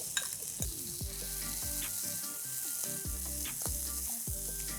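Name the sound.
stir frying chopped vegetables in a pan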